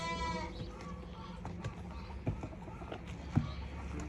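Sheep bleating inside a new barn, several wavering calls early on, then scattered thumps and shuffling hooves under a steady low background hum.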